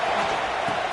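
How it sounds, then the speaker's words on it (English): Stadium crowd noise in the College Football 26 video game, a dense, steady roar of many voices filling the background with no break. "this crowd trying to help keep them there"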